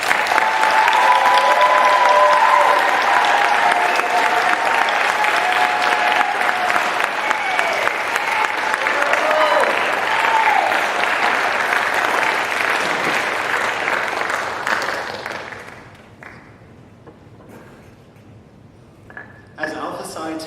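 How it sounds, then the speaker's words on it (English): An audience at an honor society induction ceremony applauds the inductees, with dense clapping and some voices mixed in. The clapping fades out after about fifteen seconds, leaving quieter room sound. "Let's give our inductees a round of applause."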